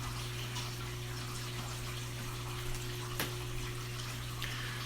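Water running steadily during a water change on a 125-gallon saltwater reef aquarium, a continuous splashing flow over a constant electrical hum, with one brief click and no talking.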